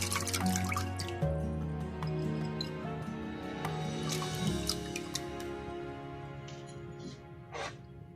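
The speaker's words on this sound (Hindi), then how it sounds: "3 गिलास में पानी डाल रही हूँ" Water poured into a cooking pot holding soaked chana dal, with dripping, splashing liquid sounds and clinks over a steady pour, close up.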